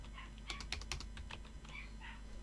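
Quiet keystrokes patter on a computer keyboard in a short irregular burst of clicks, close and soft against a steady low hum, with no talking.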